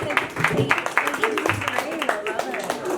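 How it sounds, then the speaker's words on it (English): Scattered clapping and cheering from a small audience at a holiday open mic night, with loud, overlapping talk and whoops running throughout. "Let's give a round of applause for just Timmy."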